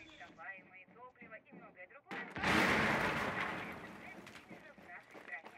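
A frag grenade detonates in Rainbow Six Siege on Xbox One, a sudden loud blast with a rumbling tail that fades over a few seconds, preceded by brief talk from players.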